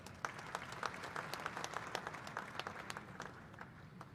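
Audience applause for a guest of honor at a coffee-producing nations summit, dense steady clapping from a roomful of people, moderately distant and fairly quiet throughout.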